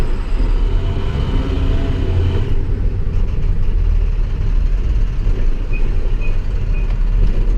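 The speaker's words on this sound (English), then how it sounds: "These are just speed bumps." Inside the cab of an International Durastar truck going over speed bumps, a steady loud low engine and road rumble fills the cabin, with a brief jolt near the start.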